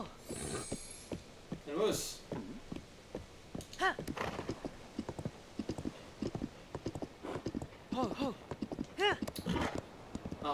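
Horses clip-clop along in Zelda: Tears of the Kingdom near the ancient hamlet of Raoru, with repeated hoof beats and an occasional whinny mixed under someone talking in French.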